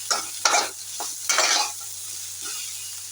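Broccoli stir-fried in a pan sizzles and rustles in a few quick bursts of stirring and tossing, close and loud at first, then tapering to a softer scrape near the end.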